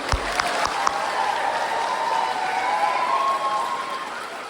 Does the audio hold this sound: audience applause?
yes